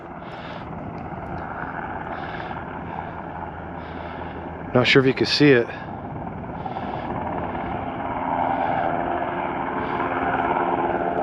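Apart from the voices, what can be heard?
helicopter flying overhead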